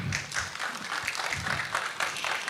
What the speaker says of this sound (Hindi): एक बार फिर से जोरदार तालियां हो जाए हमारी वांगमू के लिए